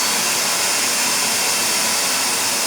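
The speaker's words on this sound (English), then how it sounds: "If you ever want to get rid of bugs, the vacuum cleaner's the way to go." A vacuum cleaner runs close by with a loud, steady broadband whoosh, used to suck up a mosquito indoors, holding an even level throughout with no talking.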